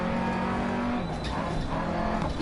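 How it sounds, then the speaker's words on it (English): A rally car engine screams near the limiter in DiRT Rally, a loud, steady high-rev drone held close, with a brief dip and some tire noise. No voices are heard. "that's really high revs for the engine"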